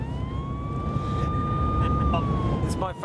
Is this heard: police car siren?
yes